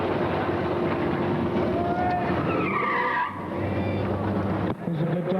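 A 1967 Pontiac GTO at a drag strip, with a loud engine roar and tire screech, the engine note rising and falling before a brief dip and a fresh surge of noise.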